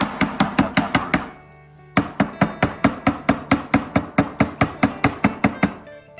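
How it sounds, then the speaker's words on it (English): Jars of home-canned jalapenos tapped repeatedly on a hard surface to settle the peppers, about twenty sharp, even knocks in quick rhythm with a short pause partway through, close and clear with no talking. "It's like you're just tapping it in."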